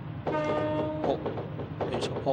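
A 209 series Keihin-Tohoku-line electric train runs in a Plarail toy-train driving game, sounding a sustained electronic horn-like tone followed by short rumbling bursts, with a brief voice nearby.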